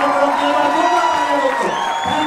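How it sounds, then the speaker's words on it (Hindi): Cheering and shouting from an audience at a makeup product launch event, a continuous loud crowd roar with whoops rising over it, steady for a couple of seconds. "एक बार जोरदार तालियों के साथ"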